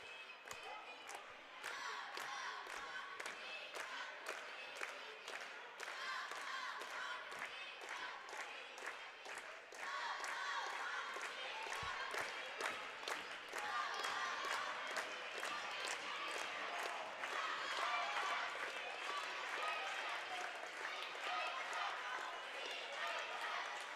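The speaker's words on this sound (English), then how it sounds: "Had the DC West cheerleaders get the DC West Falcons crowd cheering." Crowd at a DC West Falcons boys basketball game cheering during a timeout, with cheerleaders leading loud, sustained rhythmic chants and claps from the stands, growing louder midway and mixed with shouting voices.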